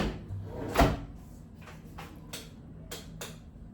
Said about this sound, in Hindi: बंद करते हैं खिड़की, कांच का खिड़की है